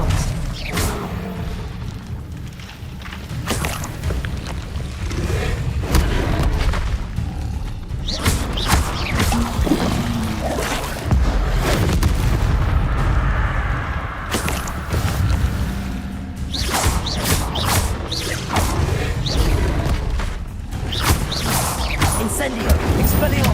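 Spell effects from Hogwarts Legacy, fiery Incendio blasts alternating with Expelliarmus disarming casts, crackle and thump in repeated bursts over a dense, continuous game soundscape of crashes and mechanical clatter.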